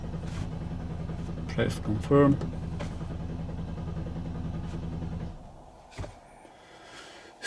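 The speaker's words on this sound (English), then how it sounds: "Try to start the engine." A Mercedes-Benz GLK engine runs during diagnostics with a steady low rumble for several seconds, then cuts out and falls quiet; someone speaks briefly over it.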